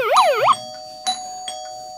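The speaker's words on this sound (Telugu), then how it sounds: "కాలింగ్ బెల్ కొడతారు." An electronic doorbell chimes in a rising and falling tone, followed by a couple of faint clicks and a steady high hum.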